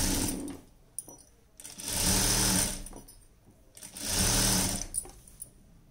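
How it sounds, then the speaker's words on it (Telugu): A sewing machine stitches underwear fabric in two sustained runs of rapid, even mechanical chatter, separated by quieter pauses with small clicks. "ఇప్పుడు సంఖ పక్క కూడా ఇంకొక సైడ్ కూడా గుట్టు చేసుకోండి."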